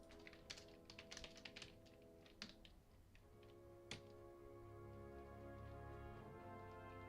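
Quick bursts of typing on a computer keyboard, with uneven clusters of key taps that thin out and then stop as a steady hum takes over. The keys are close and moderately quiet, with no talking.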